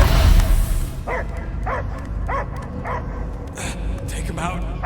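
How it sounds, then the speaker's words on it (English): Repeated dog barks and yips from a creature in the Guardians of the Galaxy video game, about five rhythmic bursts over a rumbling game soundscape with voices mixed in. "I hear only barking"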